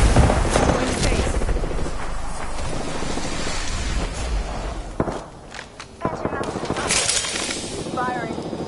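Gunfire in the battle royale shooter Apex Legends, a dense rapid fusillade of shots with breaking and shattering impacts, mixed with voices talking over the action.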